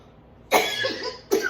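Two harsh, close coughs during a spicy noodle challenge, one long rasping hack followed by a sharper second cough.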